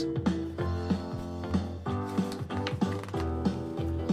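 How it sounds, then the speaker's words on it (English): Typewriter keys clacking in a quick, uneven rhythm of sharp mechanical strikes, close and fairly quiet, heard alone without talk. "Farmer Brown got out his own typewriter"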